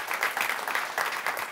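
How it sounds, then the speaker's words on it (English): A conference audience claps as two guests are brought on stage for a cryptocurrency talk, giving a brief burst of lively applause that lasts through the short moment. "Let's give them a big round of applause."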